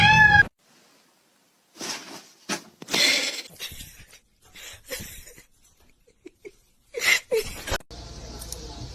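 A kitten meows in several short, separate calls spread across the moment, fairly close and clear, with a brief high squeal at the start and a sustained noisy tone at the end.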